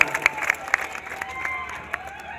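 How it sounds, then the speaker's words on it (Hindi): An outdoor crowd at a political rally greeting Manoj Tiwari in Baniyapur, Saran breaks into scattered applause, with sharp individual claps standing out early and thinning out over a murmur of voices and a nearby speaker. "सब ताली बजा दीजा"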